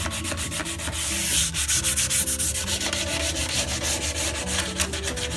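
A power sander runs continuously over wood, a steady close abrasive rubbing with slight surges, preceded by some hand sanding to remove swirl marks on a small wooden box for a drink station and potting bench.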